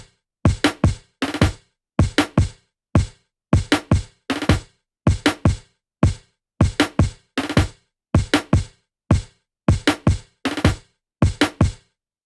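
Brooklyn Fields drum kit loop in Logic Pro, quantized to a straight 16th-note grid with no swing, plays a steady, mechanical pattern of punchy kick and snare hits with bright cymbals, loud and unaccompanied throughout.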